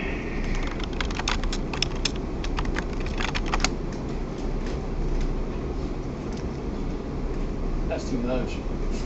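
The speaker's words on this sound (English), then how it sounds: "It is a lot of typing, but we'll run with it." Computer keyboard typing during a programming lecture on modules and flowcharting, a steady run of quick key clicks under a constant air-conditioning hum with faint background noise.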